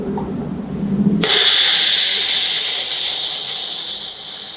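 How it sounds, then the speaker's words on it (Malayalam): A kitchen mixer grinder starts up on a jar of cooled mushroom masala, a sudden high whining motor roar that holds loud and steady after a brief quieter lead-in. "ഇനി നമുക്കിതൊന്ന് ഗ്രൈൻഡ് ചെയ്യാം."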